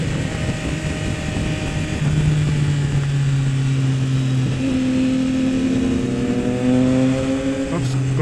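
A car passes a group of motorcycles, Yamaha XSR900s, on the Marilaque mountain highway, its engine tone rising over steady wind rush and the riders' own engine drone, with a voice talking through it.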